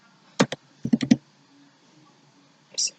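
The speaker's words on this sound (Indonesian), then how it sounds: "Di sini saya akan mengetik nama sekolah." Keys on a computer keyboard are tapped to enter a school name, a few sharp clicks in short bursts with pauses between, close and alone in a quiet room.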